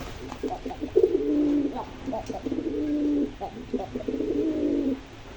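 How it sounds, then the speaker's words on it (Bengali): A male pigeon coos in three rolling, throaty phrases from close by, each a soft, low, bubbling call with short pauses between them, over a quiet background. "ছেলে কবুতরটা গলা ফুলিয়ে ফুলিয়ে ডাকে"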